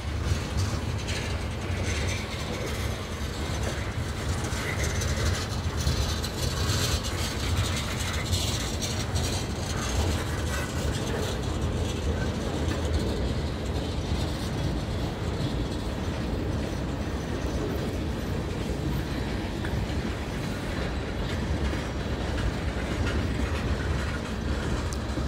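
An NS train rolls past on the rails with a steady rumble and continuous metallic clanking and ratcheting of the cars for about 25 seconds, close by and with no talk.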